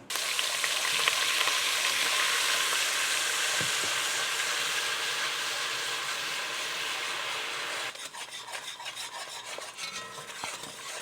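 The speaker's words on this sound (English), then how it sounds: "I'm gonna put the cream in now and just mix it in real good." Cream being stirred into reduced carnivore gravy in a hot pan, a steady loud sizzle with scraping stirs that turns into quicker rhythmic scraping near the end.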